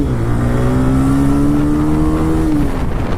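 A TVS Raider 125 motorcycle engine accelerates hard on a top-speed run, a loud, steady rising drone that climbs in pitch for nearly three seconds before easing off near the end.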